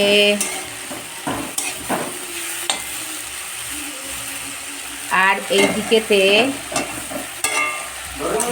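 Mixed vegetables for a chorchori sizzle and fry in a hot pan with scraping stirs, while someone speaks briefly over the cooking noise.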